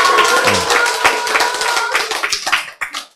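An audience at a health lecture claps together in a dense, loud burst that thins into scattered individual claps and fades out after about three seconds, with no talking.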